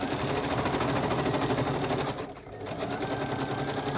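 A sewing machine runs steadily, stitching fabric in a continuous fast whirring hum, close and even, with a brief dip in speed midway before resuming.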